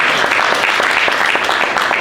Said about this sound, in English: I think it deserves a round of applause, ladies and gentlemen.